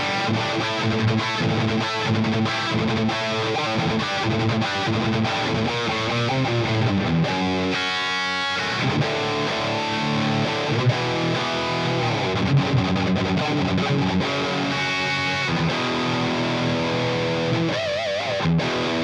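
A Schecter BlackJack electric guitar played through a Valeton GP200LT with a distorted rock tone, steady loud chords and riffs with sustained notes running continuously for the whole stretch, close and dense with no talking.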